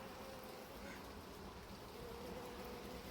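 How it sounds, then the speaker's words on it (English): Flying honey bees return to a hive at an apiary early in swarming season, a faint, continuous, steady buzzing that fills the whole stretch without speech. "All the flying bees are coming back to this hive"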